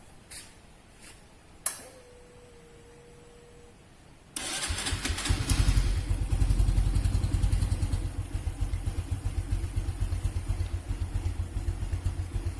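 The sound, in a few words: vehicle engine started and running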